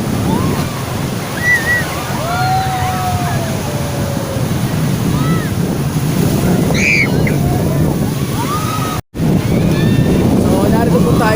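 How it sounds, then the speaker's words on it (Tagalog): Sea waves wash onto the shore at Tando Beach Resort in Infanta, Quezon, a steady close rush of surf roughened by wind buffeting the microphone, with a brief dropout near the end. "narito po tayo sa tabing dagat"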